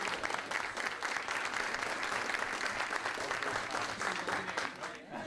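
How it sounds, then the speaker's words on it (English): A crowd at a school district event gives an honored educator a long burst of dense, sustained applause that stays even throughout, with faint voices mixed in before it tapers at the end. "Let's give him a nice round of applause."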